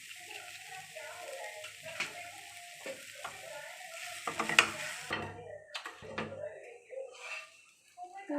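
Pea kachori filling stirred in a hot pan with a spoon, soft scraping and light sizzling in irregular strokes, fairly faint, with someone speaking over it.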